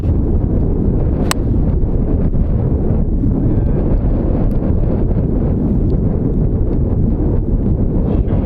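Strong wind buffets the microphone on an open golf course, a loud, steady roar of gusting air filling the whole stretch with no speech.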